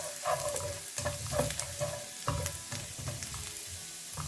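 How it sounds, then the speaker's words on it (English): Minced garlic sizzling and frying in a pan, with repeated scraping stir strokes of a utensil at a steady rhythm, close and moderately loud, no voices. "Don't let the garlic go brown in color. Stir it for a few seconds only."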